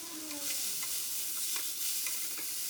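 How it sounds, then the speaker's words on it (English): Moringa drumstick pieces frying in a pan while being stirred and turned: a continuous bright sizzle with soft scraping and clicks of stirring, close and steady with no voices. "cook for about 5 to 6 minutes. Keep turning the drumstick to avoid burning."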